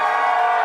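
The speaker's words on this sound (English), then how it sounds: "Cheer if you have ever been to an improv comedy show before" Audience cheering at an improv comedy show, a brief loud burst of crowd whoops and shouts.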